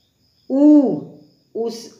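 An owl hoots loudly and close, one long sustained hoot followed by a second shorter one after a brief silence.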